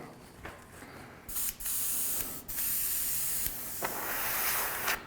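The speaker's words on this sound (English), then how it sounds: "I always keep very little paint in the airbrush just in case." An airbrush sprays candy green paint in steady hissing bursts, with short breaks between passes and a softer hiss at the start, close and clear with no talk.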